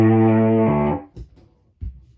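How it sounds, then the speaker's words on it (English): A distorted guitar chord from the Pierce channel of a Line 6 Helix amp-modeling preset rings loud and saturated, then cuts off after about a second, followed by a couple of soft muted thumps. "This will be the distortion of the Pierce."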